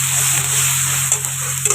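Chopped tomato sizzles steadily in hot oil with onion, bay leaf and whole garam masala, a loud, close, constant frying hiss with no talking.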